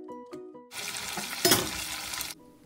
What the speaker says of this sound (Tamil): கருகப்பிலையை போட்டுக்கணும், முருங்காயை போட்டுக்கணும், கத்திரிக்காயை போட்டுக்கணும், எல்லாம் சேர்ந்து நல்லா வதங்கட்டும்.